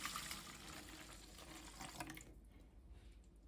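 Lukewarm tap water poured into a bowl for gluten-free bread dough, a steady close splashing pour that stops abruptly, leaving quiet.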